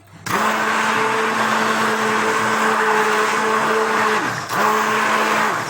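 A hand-held kitchen mixer whirs loudly and close at a steady high pitch, cuts out briefly, then starts again and runs on.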